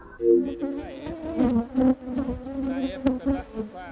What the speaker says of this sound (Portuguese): Abelhas insetos que alimentam o homem com mel, mas que também podem matá-lo